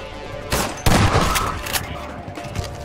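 A rocket launcher firing at a Strider in Half-Life 2, a couple of loud close blasts followed by a rumbling explosion tail.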